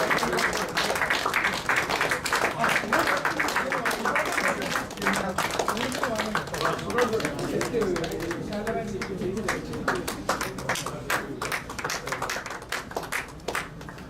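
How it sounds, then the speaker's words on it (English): An audience claps at a farewell ceremony held by Indian community volunteers, sustained, dense applause running throughout with voices mixed in beneath it. "Please start clapping. Don't stop it."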